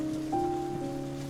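Steady rain falls during a storm in the video game Paper Trail, a soft even hiss under sustained tonal music, with no voices.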